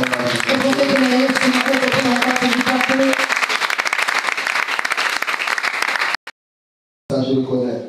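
A conference audience applauds for Pastor Marie in steady, dense clapping that holds for about six seconds before cutting off, with voices mixed in and a brief resumption at the end.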